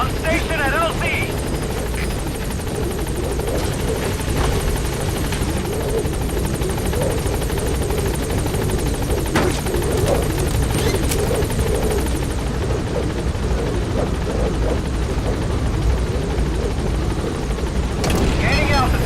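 Support helicopter hovering at a landing zone in the video game Metal Gear Solid V: The Phantom Pain, a steady loud rotor drone filling the scene with radio chatter and game effects over it.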